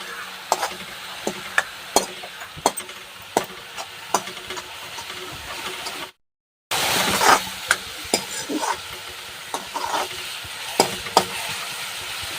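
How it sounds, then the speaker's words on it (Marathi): Masala fries in oil in a pan for a dill and spinach vegetable dish, a constant crackling sizzle punctuated by sharp, regular spatula knocks and scrapes, with a short gap midway and no talking. "छान मसाला पण असा दोन ते तीन मिनटं छान तळून घ्यायचं आहे छान भाजून घ्यायचं तेलामध्ये"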